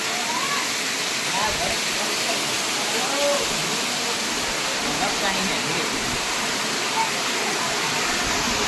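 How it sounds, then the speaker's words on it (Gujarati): Water from a hillside stream spills down near a Khodiyar hill temple as a steady, loud, unbroken rush, with voices faintly audible over it. "આમ જો પાણી ઝરણા પડે"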